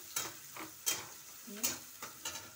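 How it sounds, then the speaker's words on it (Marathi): Onion frying in a pan for village-style palak paneer, with a few scattered stirring scrapes and a faint sizzle, quiet and close, no talk. "कांदा टाकले मी आता."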